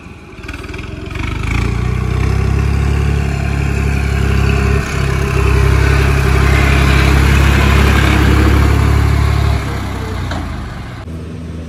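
A modified tractor with a 38-inch bumper runs its engine steadily and loudly up close, a deep rumbling drone that holds for about ten seconds before easing off near the end, with no talk over it.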